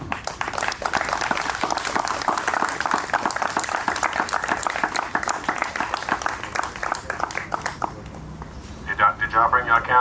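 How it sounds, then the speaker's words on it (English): A crowd at an outdoor rally claps and cheers in a steady burst of applause that fades out near the end, with voices mixed into the clapping. "So give yourselves a round of applause for coming out,"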